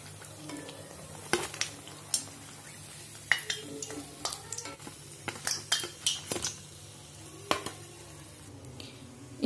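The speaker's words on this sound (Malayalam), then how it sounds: "2 സൈഡ് നന്നായിട്ടൊന്ന് ഫ്രൈ ചെയ്തെടുക്കണം" Brinjal bajji, eggplant slices dipped in batter, frying in hot oil, with soft steady sizzling under repeated clinks and scrapes of a utensil against the pan, close by.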